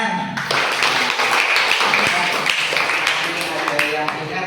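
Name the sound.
class clapping hands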